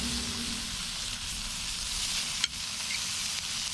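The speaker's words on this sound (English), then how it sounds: "I have about 4 pieces of the thick cut bacon. Just going to go ahead and get that started in our pan." Four pieces of thick-cut bacon sizzle steadily in a pan over an outdoor campfire, a soft continuous hiss with a faint clink near the middle, heard alone without talk.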